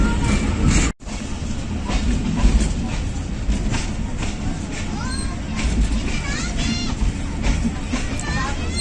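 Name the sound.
Rawalpindi Passenger train running on rails, Pakistan Railways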